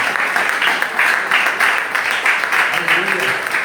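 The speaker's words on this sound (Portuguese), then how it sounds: "Aplauda o Senhor" A church congregation applauds during a worship service, a steady, continuous wash of many hands clapping at once, close and fairly loud, with voices mixed in underneath.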